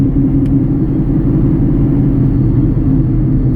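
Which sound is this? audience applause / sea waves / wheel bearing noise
wheel bearing noise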